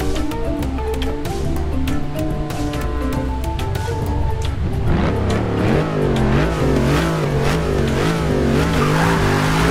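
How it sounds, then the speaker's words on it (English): A Dodge Challenger drift build in Forza 6 does a loud sustained burnout, the engine droning with harmonic revs while the tyres squeal steadily and rise in pitch toward the end. "It does better burnout, I can tell you that."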